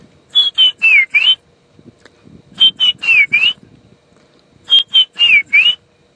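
A person whistles in imitation of a bird call on a wildlife safari drive, producing three bursts of four quick, bright, warbling notes with pauses between, close and clear over a quiet background.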